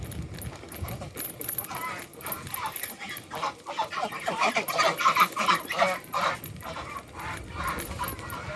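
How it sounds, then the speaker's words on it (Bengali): Geese honk in a village setting, a cluster of nasal calls rising to a busy, fairly close chorus in the middle, with a person speaking nearby. "এই যে রাজহাঁস"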